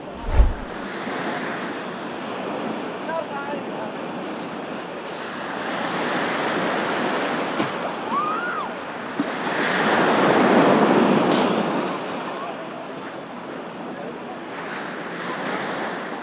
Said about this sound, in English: The main attraction here is the small beach.